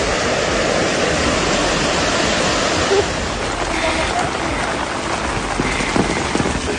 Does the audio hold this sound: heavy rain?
yes